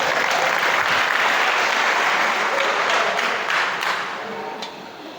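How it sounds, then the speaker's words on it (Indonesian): Seminar audience breaks into loud, close applause, a dense wash of clapping that holds strong for about four seconds and then thins and fades toward the end. "Tepuk tangan buat kita hari ini ya."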